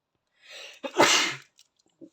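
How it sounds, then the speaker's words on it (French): One close sneeze with a short breathy intake leading into the burst, followed by a faint sniff. "Pardon, excusez-moi, petit éternuement."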